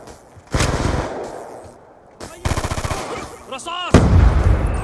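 Bursts of gunfire in Call of Duty Black Ops 2 multiplayer, loud sharp volleys and automatic rattles in three separate bursts with short pauses between.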